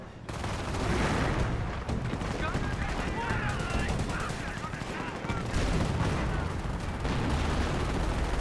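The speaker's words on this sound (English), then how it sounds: "That's decoy barrage" Decoy artillery barrage in Company of Heroes, a dense continuous rumble of booms and gunfire mixed with battle noise throughout, with a voice talking over it.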